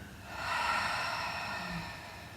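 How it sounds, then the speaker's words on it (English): One long, deep exhale through the mouth swells into a soft breathy rush and then fades, close and unhurried, during a yoga breathing practice. "And again, take a deep breath in. And fully breathe out."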